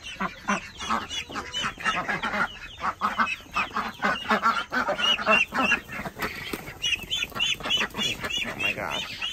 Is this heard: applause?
no